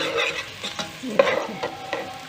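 Onions sizzle softly in a pan as they start to brown while being stirred, with scraping and light crackling bursts, close by.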